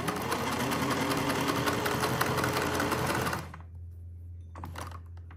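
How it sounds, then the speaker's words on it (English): A 1950s Singer 403A sewing machine stitching zigzag runs at a fast, even mechanical clatter for about three seconds, then stops, leaving a low hum and a brief faint rattle. "we're going to do the fashion disc with a few different widths and different lengths"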